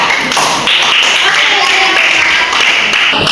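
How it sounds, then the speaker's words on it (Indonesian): A classroom group claps for fellow students, a loud, close burst of many hands with dense, fast taps that keeps going, while voices and chatter run under it. "Oke, tepuk tangan kepada mereka"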